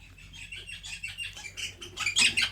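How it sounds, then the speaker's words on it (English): Spring birdsong outdoors, several birds chirping and tweeting in quick overlapping calls, fairly faint and distant, growing a little brighter and busier toward the end. "Can you hear those birds?"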